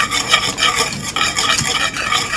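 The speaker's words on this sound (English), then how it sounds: "give that a good stir" Grits in a pot are stirred briskly with a utensil, making a close, loud, rhythmic scraping and swishing that repeats in quick strokes, with no talk.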